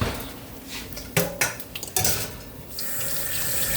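Water runs from a kitchen tap over hands at the sink, with a few clinks of dishes and utensils at the start, close by, then a steady stream of water.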